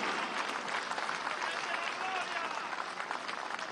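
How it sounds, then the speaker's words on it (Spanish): Large crowd applauding at a Venezuelan presidential ceremony, a continuous dense roar of clapping and crowd noise held at even volume throughout, with voices blended in. "un aplauso para Lula."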